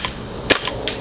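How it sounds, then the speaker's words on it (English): A G&G airsoft gun fires on semi-automatic, giving a few sharp, separate cracks with pauses between them, close to the microphone and with no talk. "Shooting on semi-automatic."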